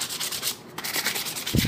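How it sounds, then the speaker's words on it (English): Sandpaper rubbed along the edge of a steel hand plane, quick close back-and-forth rasping strokes with a brief pause midway, loud and alone. "lihain mo rin yung gilid para mawala yung mga nakalawit-lawit na mga burr-burr"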